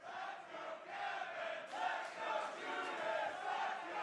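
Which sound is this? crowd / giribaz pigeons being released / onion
crowd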